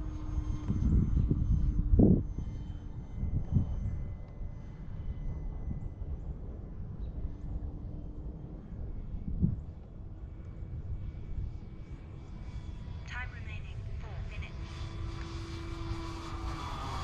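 A small E-Flite Clipped Wing Cub RC plane flies at about two-thirds throttle on a brisk, cloudy day, its motor a steady distant drone mixed with gusty wind noise on the microphone.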